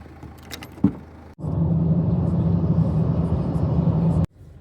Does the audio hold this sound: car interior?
yes